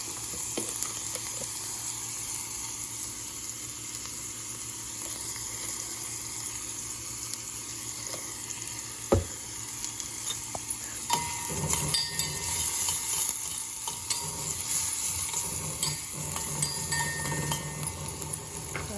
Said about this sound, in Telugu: ఇది తొందరగా ఫ్రై కావడానికని కొంచెం సాల్ట్ కూడా వేసేస్తాను అన్నమాట